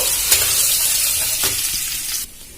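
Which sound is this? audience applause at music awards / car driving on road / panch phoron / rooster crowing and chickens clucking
panch phoron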